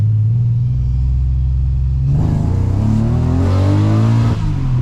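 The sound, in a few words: turbocharged Subaru Legacy accelerating hard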